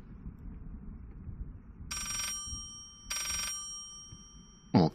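Two bright, close bursts of an old-style telephone bell ring out inside the horror game Layers of Fear over a low, murky ambient rumble, followed by a short sharp knock.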